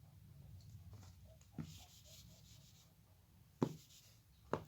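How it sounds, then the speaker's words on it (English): Pen scratching across paper while a maths derivation is written out, with short rubbing strokes and a few sharper taps and scrapes, close and quiet, with no talking. "now I will write this above step and write this step again"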